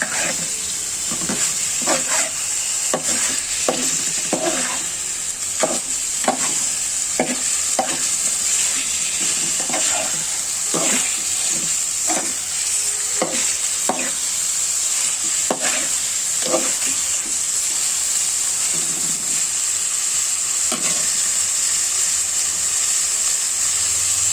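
Fish pieces sautéed in a pan with pumpkin, a steady loud sizzle under repeated scraping stirs of a spatula at close range, with no talking.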